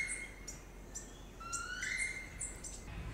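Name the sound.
red-necked Amazon parrot calling in Dominica forest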